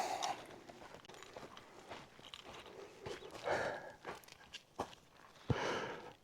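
A trail runner's footsteps on a hiking trail: soft, irregular crunching steps that draw closer and grow louder toward the end, with light breathing and rustling in between.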